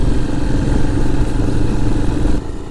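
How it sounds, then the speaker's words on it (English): Vintage motorbike on a group ride in Wiltshire, a loud continuous rumbling engine with clattery mechanical texture close by, easing slightly near the end as it passes. "one of the 89-year-old riders has enough of the smoke from Colin's machine and decides to overtake"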